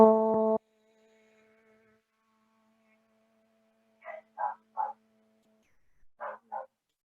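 A dog barks a few short, fairly faint times in a quiet room during a yoga session, in two small clusters after a sustained chanted tone fades out.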